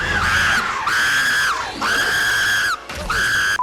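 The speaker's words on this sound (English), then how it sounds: "Stop screaming!" People scream in the 1998 film The Faculty, several long, shrill, sustained screams one after another at close range with short breaks between them.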